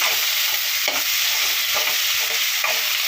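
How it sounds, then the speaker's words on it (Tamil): Tomatoes sautéing in oil in a pan for an egg curry, a steady close sizzle with repeated scrapes of a stirring spoon every second or so, no voices. "தக்காளி நல்லா வதங்கட்டும்"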